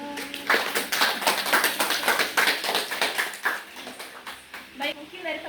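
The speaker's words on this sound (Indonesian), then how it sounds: "mari kita beri aplaus" Applause from a classroom audience during a group discussion session, a run of steady clapping that tapers off toward the end, with faint voices underneath.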